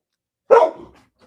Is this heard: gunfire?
no